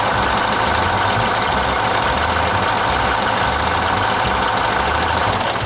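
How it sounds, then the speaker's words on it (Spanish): Detroit Diesel two-stroke bus engine with a blower, idling loud and close in a steady, throbbing rumble with a fast, even low-pitched pulse and no voices. "2 tiempos o Detroit Diesel, como después se cambió el nombre, que tenían un sistema de soplador que le daba un ruido muy particular"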